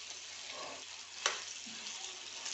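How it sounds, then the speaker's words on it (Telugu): Chicken fries in oil in a pan with a soft, continuous sizzle, a faint stir and one brief clink, all fairly quiet. "బాగా నూనెలో వేయించాలి"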